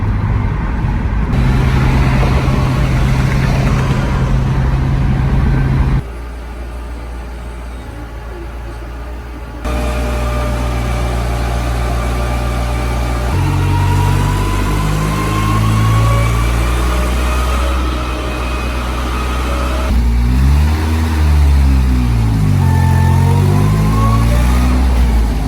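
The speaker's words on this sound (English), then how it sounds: "Just leaving it in 4th gear, revving it out." Engine of a 1976 Toyota Celica revving hard while held in fourth gear, loud and close, with the pitch sweeping up and down through repeated climbs and drops and a steady low drone beneath.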